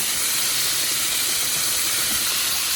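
Pork chops sizzle in a skillet, giving a loud, even, unbroken hiss from start to finish with no other sounds.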